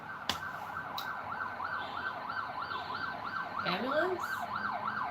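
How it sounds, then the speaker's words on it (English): Emergency vehicle siren wails outside in a steady rising-and-falling cycle, fairly loud and continuous, with a brief whoop near the end and a short voice in the background. "Siren."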